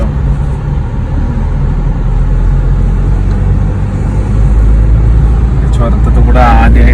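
A car climbing a mountain ghat road, its engine a steady, loud, close drone with road and cabin rumble throughout and a brief clatter near the end.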